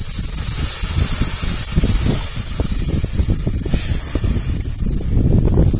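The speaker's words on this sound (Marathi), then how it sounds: "आता आपण ह्याच्यात पाणी घालायचं." Water poured into a hot pan of spiced fish curry masala, with turmeric and salt, cooking over a village wood-fired stove; a loud, steady steaming hiss with bubbling crackle running continuously up close.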